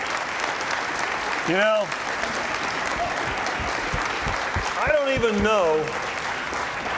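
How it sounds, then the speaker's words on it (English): Dense applause fills a variety show hall, steady and loud throughout, while someone speaks over it in a few short phrases. "that applause was louder than anything they got"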